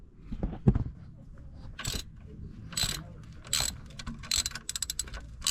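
A bolt being loosened on a Nissan 300ZX twin turbo during a coolant system rebuild: a few quick ratchet clicks and clunks, then bursts of sharp ratcheting in short spurts, close and fairly quiet, with no talking.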